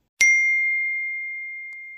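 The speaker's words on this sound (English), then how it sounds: "Oh, I just got a new notification." A single bright phone notification ding strikes once and rings out in a long, slowly fading tone against silence.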